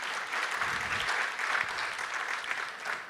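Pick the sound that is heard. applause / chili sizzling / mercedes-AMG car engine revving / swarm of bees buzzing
applause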